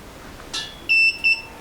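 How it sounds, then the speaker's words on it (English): A faint click, then two short high-pitched beeps from a multimeter on continuity setting in quick succession, clean and close, over a quiet background. "it will beep if there's a connection between the two probes."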